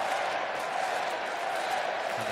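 A large crowd at a men's volleyball match, USA versus Russia in the 2019 Nations League, roars in a steady, dense wash of cheering and noise throughout the short stretch.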